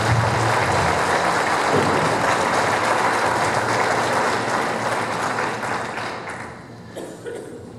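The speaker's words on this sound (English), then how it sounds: "So if we give them a round of applause." Audience applause for search and rescue volunteers at a public meeting, loud dense clapping that holds steady and then fades out near the end.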